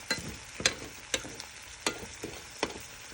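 Fish and eggs fry in a pan with a soft steady sizzle, broken by several sharp clicks and scrapes of stirring at irregular intervals, close and fairly quiet with no voices.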